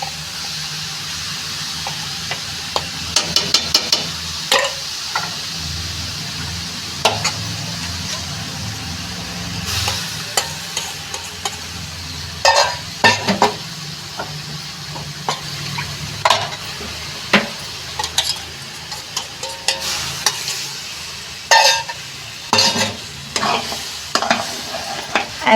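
Cauliflower pieces fry with ground lentil paste in a pan, a steady sizzle under repeated sharp scrapes and clanks of a spatula stirring, loud and close, spread across the whole stretch without talk.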